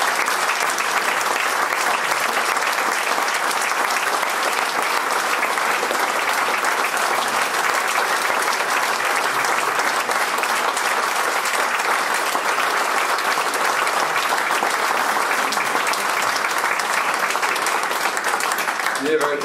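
A large audience applauds at a culture council award ceremony, a loud, sustained, even roar of clapping that runs unbroken for nearly twenty seconds, close and full, with speech blending into the crowd noise.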